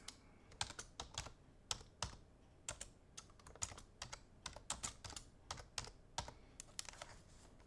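A name is typed on a computer keyboard in rapid bursts of crisp, close key clicks, uneven in rhythm with brief pauses between groups, quiet and alone.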